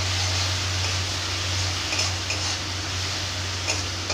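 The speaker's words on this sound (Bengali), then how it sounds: "ভালো করে কষিয়ে নেব এটাকে" Ginger and onion paste with a pinch of sugar is stirred and sautéed in a pan, giving a steady frying hiss over a low constant hum, with a few light scraping ticks from the spoon and no talking.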